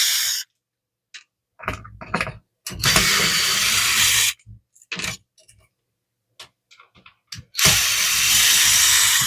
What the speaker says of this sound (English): let's try removing the gear unit or gear assembly without losing everything in there.